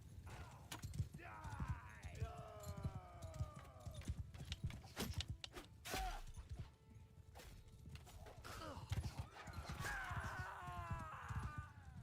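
Horses on the move with hooves clattering in irregular bursts, mixed with whinnies, thuds and crashes in a chaotic skirmish; voices and bright ringing tones appear intermittently.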